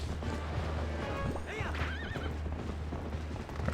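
A horse in Zelda: Twilight Princess HD whinnies loudly mid-clip over a steady, rhythmic drumming of galloping hooves, with a low rumbling game background underneath throughout.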